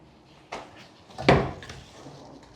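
A drawer in a hotel room slides and bumps shut, a short scrape followed by a louder wooden knock, then quiet room tone.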